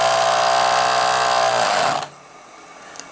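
Twin steam engines on a vintage 1961 RC runabout boat, after repair, run with a loud, steady mechanical whirring hum close by, then cut off abruptly about two-thirds of the way through, leaving near silence.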